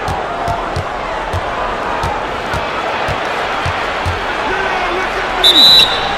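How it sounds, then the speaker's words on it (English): A referee's whistle blows briefly for a foul during an NBA 2K17 basketball game at Staples Center, cutting through a steady roar of arena crowd noise, bouncing balls and commentary. "And there's the whistle, fouled hard on the shot."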